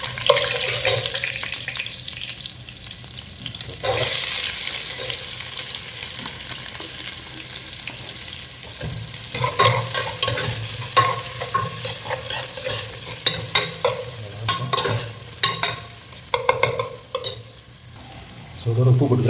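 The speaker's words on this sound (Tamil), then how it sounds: "கொஞ்சம் அப்படியே எண்ணெயில் வதங்கட்டும்." Onions sauté in hot oil in a pan for a fish curry, a steady sizzle broken by scraping and stirring strokes that grow busier and more clattery toward the end.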